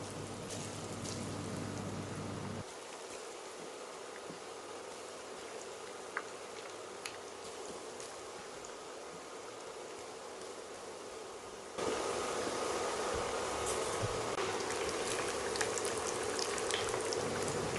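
Boiled elephant foot yam pieces fry in hot oil over a medium flame until crisp, making a continuous hissing crackle that thins partway through, then swells louder toward the end.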